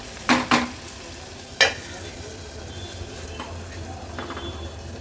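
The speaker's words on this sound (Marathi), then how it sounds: "कांदा तेलावर व्यवस्थित आपल्याला शिजवून घ्यायचा आहे।" Onion with crushed ginger and garlic cooks in oil, giving a low, steady sizzle with a few sharp spatula scrapes against the pan near the start, then mostly quiet frying.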